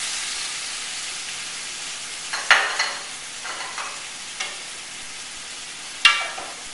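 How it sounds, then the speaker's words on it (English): Cream cheese being stirred into a sizzling mushroom sauce, with a low steady sizzle under a few scraping spoon strokes, the sharpest near the start and one more toward the end. "just keep mixing this in and stirring it until the cream cheese completely melts and you have a nice creamy mushroom sauce"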